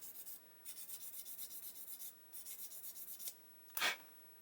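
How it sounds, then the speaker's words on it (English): Rapid back-and-forth rasping of a thin Icky Sticky sanding stick in steady strokes on a hobby part, close up, pausing twice, ending with a sharper scrape. "Now I've got a thin sanding stick."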